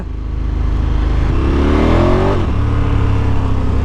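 A remapped KTM 1290 Super Adventure S motorcycle engine idles loudly up close, then revs sharply upward in one climbing surge and drops back to a throbbing idle.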